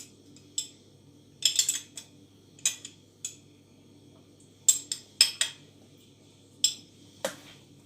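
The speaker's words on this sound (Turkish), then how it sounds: "Şekerleri yene kadar karıştırıyorum." A spoon clinks and taps against a bowl while sugar is stirred with oil and yeast for bread dough, the sharp metallic ticks coming in short irregular clusters over a quiet background.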